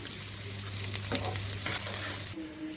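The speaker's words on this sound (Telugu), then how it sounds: "ఒక స్పూన్ అల్లం వెల్లిపాయ పేస్ట్ అండి పచ్చివాసన పోయే వరకు వేపుకుందాం" Green chillies and ginger-garlic paste frying in hot oil for a prawn gravy, a steady close sizzle with occasional stirring scrapes that cuts off abruptly near the end, no talking.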